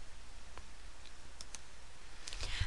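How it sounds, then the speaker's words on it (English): A computer mouse gives a few sparse, faint left-clicks spread across a quiet room, with a slightly louder cluster of clicks near the end. "I am left-clicking on the lines here,"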